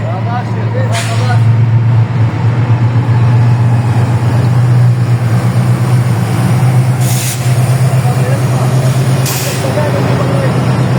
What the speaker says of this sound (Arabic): وصول قطار 1004 طبعا في انتظاره.